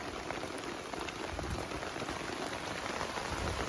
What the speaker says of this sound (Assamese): বৰষুণ এনেকুৱাই দি আছে